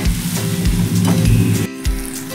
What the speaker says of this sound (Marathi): हे मीठ देखील आपण कांद्यामध्ये छान असे परतून घ्यायचे आहे